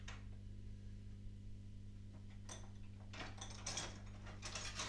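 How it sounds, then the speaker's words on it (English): A hand ratchet clicks in short bursts while the brake caliper comes off a 1980 Opel Kadett historic rally car, over a steady low workshop hum, with crisp near clicking that grows more frequent toward the end. "I'll take off the caliper next."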